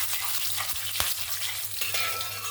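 Whole spices with bay leaves and dried red chillies frying in hot oil for a Bengali-style desi chicken curry, a steady soft sizzle with a few light stirring scrapes, close and continuous.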